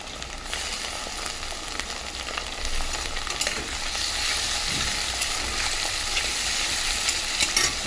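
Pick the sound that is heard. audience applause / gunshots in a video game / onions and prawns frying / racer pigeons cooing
onions and prawns frying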